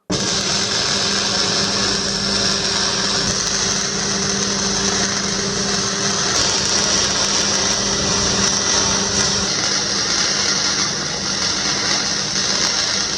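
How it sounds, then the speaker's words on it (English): Welding on a steel hexagonal firebox for an off-road smoker produces a steady, unbroken buzzing hiss with a faint electrical hum underneath. It holds at an even level, close and alone, throughout. "Let me get my gear on and weld it out"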